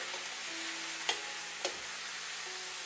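Steady broadband sizzle of pork fillet frying with garlic in a pan, with two brief clinks of a utensil against the pan partway through.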